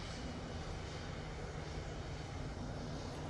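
EasyJet airliner bound for Athens at Manchester Airport, a faint, steady distant engine roar with broadband rumble and no other sounds.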